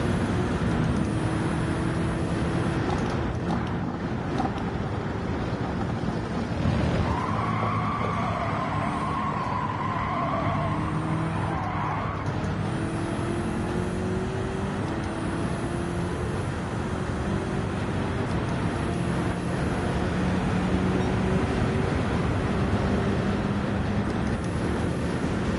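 A GT3 race car circling a track in Gran Turismo 7 during practice, engine droning loud and steady with rising and falling pitch through gear changes, continuous with no talk.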